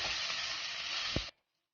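Mixed vegetables mashed and stirred in a hot pan for paratha filling: a steady bright sizzle and hiss with a soft thud of the spoon near the end, then the sound cuts off abruptly into silence.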